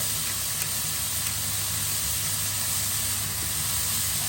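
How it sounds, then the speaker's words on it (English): A steady, even hiss of steam from vegetables in a covered pan with a few tablespoons of water continues throughout, with a low rumbling undertone and no talking. "I'm just going to cover that up and let that steam for about 4 or 5 minutes"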